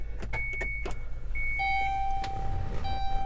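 A 2016 Chrysler Town & Country started with its push button: a low, steady engine hum inside the cabin, overlaid by clear electronic chime tones and a few soft clicks.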